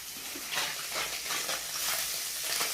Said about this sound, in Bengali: বন্ধুরা দেখো আমি মাছটাকে ভালো করে উল্টে দেবো,